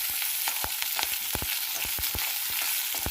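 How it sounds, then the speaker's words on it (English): Shallots frying in hot oil for a South Indian green chutney, a steady close sizzle with repeated sharp ticks and pops from stirring, no voices. "So here I added the shallot first."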